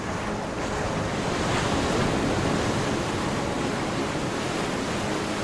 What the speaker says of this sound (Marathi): लांबच लांब पसरलेली वाळू, समुद्राच्या लाटा आणि वाहणारा थंड वारा